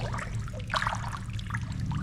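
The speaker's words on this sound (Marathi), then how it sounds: "मातीत म्हणजे जमिनीतूनच पाणी येते हे बघा" Spring water seeping and trickling up out of the soil at a shrine in Ghatsawali, Beed, a soft, continuous dribble close by, with a brief brighter splash near the middle and no talk over it.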